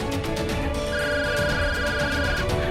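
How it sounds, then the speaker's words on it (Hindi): A phone rings with a steady electronic ringtone, repeated tones pulsing loudly over a busy background. "अरे बिमला का फोन आ रहा है"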